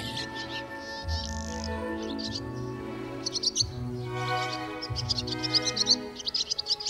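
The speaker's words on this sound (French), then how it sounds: "de petits oiseaux voyageurs venus d'Afrique viennent nicher sous les arches du carrousel, les hirondelles" Swallows, small migratory birds from Africa, twitter in short high bursts while nesting under the stone arches of the Carrousel in the Tuileries garden in Paris. The calls are moderately near, over a low hum and continuous music.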